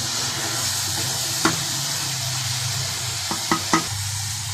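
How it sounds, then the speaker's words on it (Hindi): Mash dal (urad lentils) frying in spiced masala with a spoon stirring, a steady close sizzle with a few sharp scrapes of the spoon against the pan. "इसको मज़ीद 5 मिनट के लिए जो है मसाले में भूनना है ताकि सारा मसाला इसमें लग जाए"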